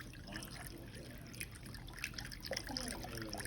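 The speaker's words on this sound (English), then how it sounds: "now I'm going to take a cup of vegetable broth" Vegetable broth is poured into a pot, making a steady soft trickling, splashing flow that continues at moderate volume throughout with no talking.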